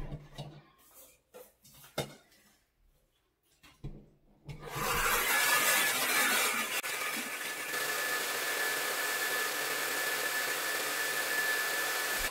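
A T3 Luxe 2i professional hair dryer switches on after a few soft handling knocks, then blows with a loud, steady whooshing roar and a thin whine held close by.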